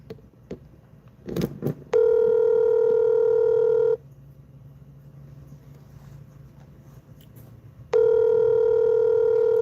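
Brief dialing beeps on a telephone, then a steady ringback tone that sounds for about two seconds, stops, and starts again, loud and clear with faint background hum.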